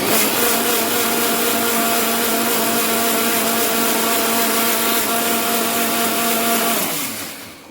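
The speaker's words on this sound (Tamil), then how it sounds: "தேங்காய் அப்படியே சந்தனம் மாதிரி அரைக்கணும்" A mixer grinder grinding coconut runs as a loud, steady motor whine with a churning rattle, then winds down and stops near the end, close up with no voices.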